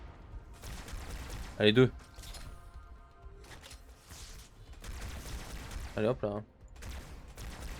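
Gunfire in the video game Halo 2, two short bursts of shots spaced a few seconds apart, heard under someone talking over steady game background noise.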